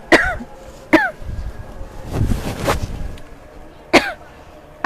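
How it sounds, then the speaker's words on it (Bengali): Three sharp, close coughs, the first two a second apart and the third after a pause, over faint background rustling. "আমি কাশি দিচ্ছি"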